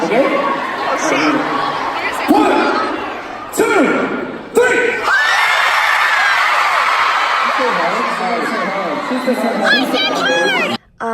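A concert crowd on a tour stop in Chicago screams and shouts together in a loud, dense, continuous roar, with excited voices and whoops rising near the end.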